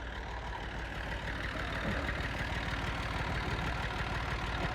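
A tractor-powered threshing machine at a wheat harvest runs with a steady, dense mechanical drone and low engine rumble, fairly loud and unbroken throughout.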